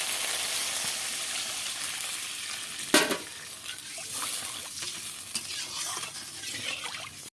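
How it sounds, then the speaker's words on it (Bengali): Water is poured onto a sautéed spice paste for a Bengali fish curry, giving one sharp sizzling burst over a steady hiss of frying, then the bubbling settles back to a continuous close sizzle. "এখন এই যে মশলাটা কষানো হয়ে গেছে, এবার আমি এখানে জল দিয়ে দেবো।"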